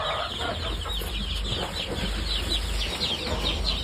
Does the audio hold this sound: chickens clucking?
yes